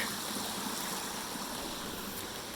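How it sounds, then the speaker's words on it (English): Small waterfalls tumble through a rocky wooded ravine, giving a continuous rushing, bubbling wash of water with no voices. "Lots of little waterfalls and very idyllic."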